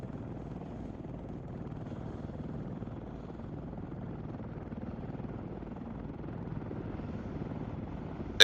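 A helicopter in Arma 3 thrums steadily with a muffled, even rotor drone, like it is heard from inside the cabin, constant and moderately faint throughout with no talk.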